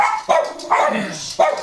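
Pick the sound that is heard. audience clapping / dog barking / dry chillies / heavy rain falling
dog barking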